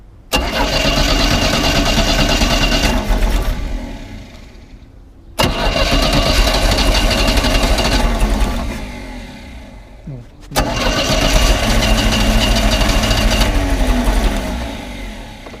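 A neglected boat's engine is cranked and fires three times, each start roaring loud and steady for several seconds before dying away, with short quiet gaps between attempts.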